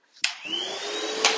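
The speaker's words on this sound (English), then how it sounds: "I'm starting with vacuuming. Vacuum cleaner's plugged in," A plugged-in vacuum cleaner starts up on household floors, rising quickly into a loud, steady whine that runs close and uninterrupted.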